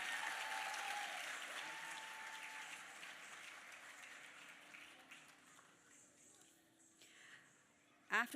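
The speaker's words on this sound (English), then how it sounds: "Give another big round of applause for that Abhinaya" An audience at an arangetram dance recital applauds after the performance, a broad wash of clapping that is strongest at first and gradually fades, with a short loud knock near the end.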